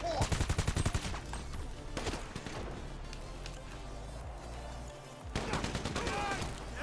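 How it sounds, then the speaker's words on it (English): Gunfire in Grand Theft Auto V, loud rapid automatic bursts at the start and again near the end, with scattered shots and background game noise between them. "we're just gonna shoot."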